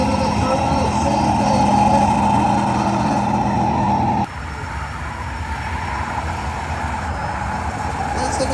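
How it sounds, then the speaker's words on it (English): A turbocharged V8 police car on a racetrack at wide open throttle: a loud, steady engine drone with a high turbo whine throughout, dropping abruptly in pitch and volume halfway as the car shifts. "Listen to the turbo sing,"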